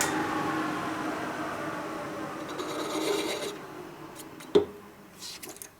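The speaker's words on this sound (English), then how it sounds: "I didn't deburr it though. Should I deburr it?" A drilled hole in a Harley shovelhead four-speed transmission part being deburred: a close, continuous scraping rasp for a few seconds, then a sharp metallic knock and some short scuffs.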